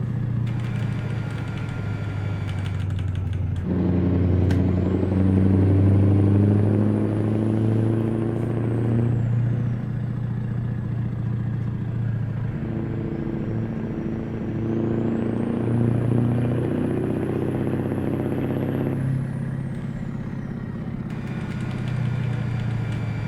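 A Scania truck engine in Euro Truck Simulator 2 drones steadily at low pitch, its tone rising and easing as the truck revs and shifts, with no talk over it.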